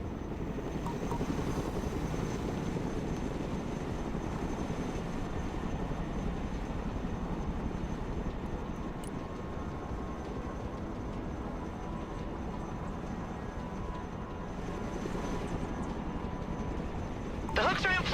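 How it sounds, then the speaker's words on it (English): A Chinook cargo helicopter flies in the Broken Arrow video game, a steady, dense rotor and engine drone that fills the whole stretch under ongoing talk, with a brief sharper burst near the end. "Let's go and recover it with our helicopter."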